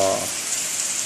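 Steady rain falls on a campsite along the Appalachian Trail, a dense even hiss that fills the whole short moment with no voices.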